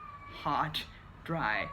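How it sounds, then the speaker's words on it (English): A cat meows twice in the background of an indoor room during rainy weather in Lebanon, each call rising and falling, faint and thin against a low steady hum. "you can still hear her meowing in the background."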